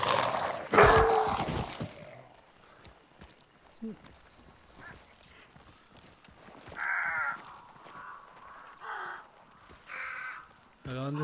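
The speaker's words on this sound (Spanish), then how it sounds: "Acaban de espantar cuervos por allí" Startled crows cawing in the Hunt: Showdown video game, several harsh caws scattered across the scene after a loud initial flurry, mid-distance, mixed with game ambience and footsteps.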